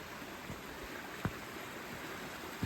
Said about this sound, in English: And here's this little waterfall again.